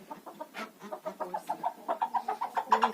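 A young hen clucks in a coop, close and clear, giving a rapid rhythmic series of short clucks and soft chirps that continue throughout.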